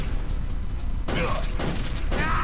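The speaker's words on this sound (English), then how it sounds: "Then throw a basic grenade." Loud bursts of blast and gunfire noise from the video game Metal Gear Solid 3, with a grenade explosion among them: a sudden heavy burst, a short dip, then two more surges close together.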